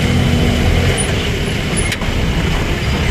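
Heavy road traffic on Ecoland Drive in Davao, Philippines: a loud, continuous roar of cars, trucks and buses passing nearby, with a brief high hiss like an air brake, no voices.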